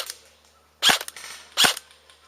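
Two sharp airsoft gun shots crack close by, spaced under a second apart in an otherwise quiet outdoor game setting; the gun fires but is not cycling rounds properly.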